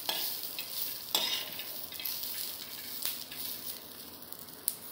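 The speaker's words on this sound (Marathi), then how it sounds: "कच्चे शेंगदाणे मी याच्यामध्ये ॲड केलेत, ते पण छान लालसर खरपूस भाजून घ्यायचेत" Garlic, cumin and raw peanuts roast in a pan with a steady crackling sizzle, broken by a few louder scraping stirs of the spoon, close and continuous with no talk.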